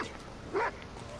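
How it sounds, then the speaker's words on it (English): A dog in the GTA video game lets out one short, sharp bark or yelp in the middle of a faint, quiet game background. "It's a fucking dog attacking me."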